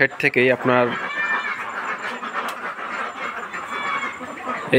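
Ducks in a farm shed holding about 450 birds, with a burst of close, loud quacks at the start, then a steady clamour of the flock continuing throughout.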